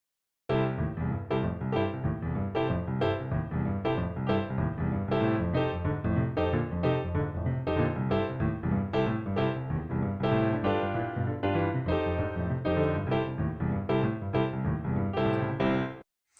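A piano plays a brisk, bouncing boogie woogie pattern with a rolling bass line under chords, steady and continuous for the whole stretch, no voices.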